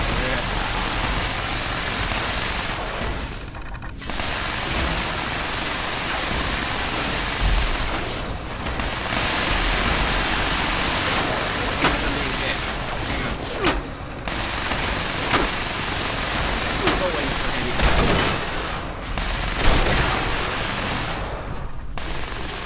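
Automated turrets firing in the video game Fallout 76, dense rapid gunfire bursts rattling almost continuously with brief gaps, loud and close, mixed with other game noise and a player's voice talking over it.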